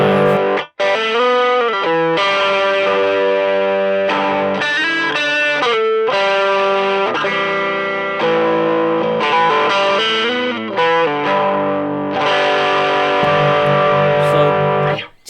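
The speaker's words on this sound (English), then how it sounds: "So let's start with an overdrive sound." Electric guitar played through a Boss OD-200 Hybrid Drive overdrive pedal set to moderate drive and flat EQ, strummed chords and riffs with a crunchy, sustained distorted tone, loud and continuous with brief gaps between phrases.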